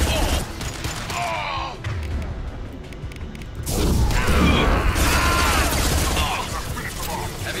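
Impact Shot ability firing in Mass Effect 2 amid dense combat noise, with sharp mechanical clanks and gunfire bursts; a louder rush of blasts swells midway and holds steady, with talk mixed in.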